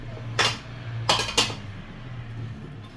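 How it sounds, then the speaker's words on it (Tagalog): Seafood sotanghon guisado noodles being stirred in a cooking pot, giving three short metallic clinks and scrapes of a utensil against the pot over a low steady hum, with no talk. "Then halo natin yung ating sutanghon."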